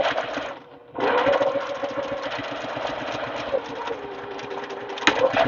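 A sewing machine runs a quarter-inch seam on a baby quilt, whirring steadily in a close, continuous rattle after a brief pause at the start.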